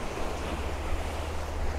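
Ocean waves roll in on a moody seashore as a steady, loud wash of surf with wind rumble, with no voices.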